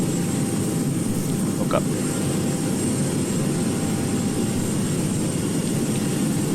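An airplane takes off from runway 25 at Muenster-Osnabrueck Airport, a steady, loud roar that stays even throughout, with a brief spoken voice over it.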